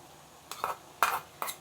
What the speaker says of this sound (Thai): เห็ดเข็มทองใส่ลงไปผัด